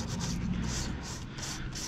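Hand sanding on the body of a 2008 Subaru Impreza STI, keying the surface for paint, makes steady rhythmic back-and-forth rubbing strokes close to the mic, with no talking.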